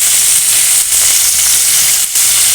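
Potatoes and other chopped vegetables fry in hot oil with salt, a loud steady sizzle with no pauses, broken only by two short dips in the hiss.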